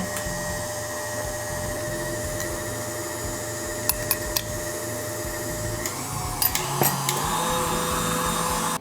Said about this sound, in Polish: Zmniejszamy obroty miksera i dodajemy sok z cytryny.